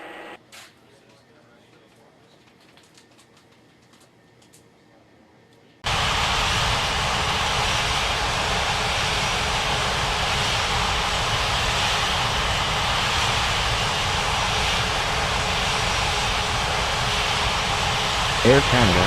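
Airliner engine whine in an air traffic control game: quiet background for the first few seconds, then a loud, steady broadband jet roar that holds continuously to the end.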